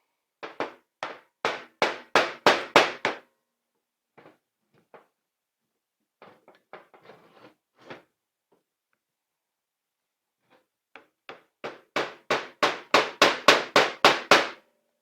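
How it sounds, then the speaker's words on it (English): Sharp metal hammer strikes ring out while a wheel bearing is replaced on a Can-Am Traxter side-by-side, fast bursts of rapid blows separated by lighter, scattered taps and a quiet pause. "Grab a hammer."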